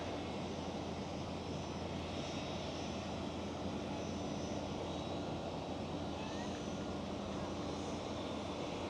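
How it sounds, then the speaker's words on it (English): Delta Air Lines Airbus A330 widebody approaching Amsterdam Schiphol, its engines a continuous rushing drone at moderate level, fairly constant throughout with a slight rise midway, no talking. "There it is. Delta Airlines A330."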